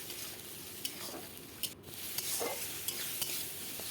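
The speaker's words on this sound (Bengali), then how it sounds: "এবার মশলাটাকে আমি ভালো করে কষিয়ে নেব। যতক্ষণ না তেল ছাড়ছে ততক্ষণ ভালো করে কষিয়ে নেব" Masala for egg curry fries in a pan with a soft, low sizzle, broken by a series of brief scraping knocks from stirring at an uneven pace, fairly quiet and close.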